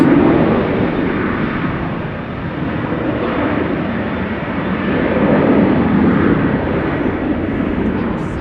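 A KLM jet in SkyTeam livery departs for Athens, a continuous broad engine roar rising and falling gently in loudness as it passes at moderate distance.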